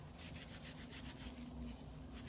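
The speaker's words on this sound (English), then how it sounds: "we're just going to do a little bit more of rinsing and squeezing, a bit more rubbing." Wet felted wool rubbed around a wooden egg, a soft, continuous scrubbing swish with gentle rhythmic pulses, close and quiet.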